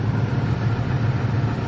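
A 1998 Ford F-150 truck engine idles steadily, close to the microphone, with a constant low rumble and no obvious ticking or variation over the short stretch.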